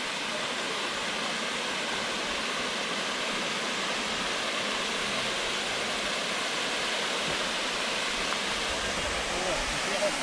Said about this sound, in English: there's something about waterfalls and running water